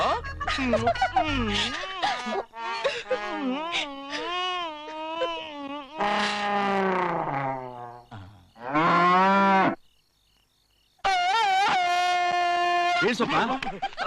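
A buffalo lows in several long, drawn-out moans with wavering pitch, loud and close, separated by pauses and one brief silence, with voices heard around the calls.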